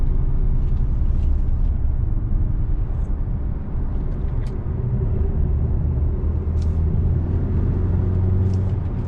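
Steady low road rumble from an Audi A6 Quattro with a 4-cylinder engine making 252 horsepower, heard from inside as it drives, a continuous even drone with faint higher whines over it and no talking.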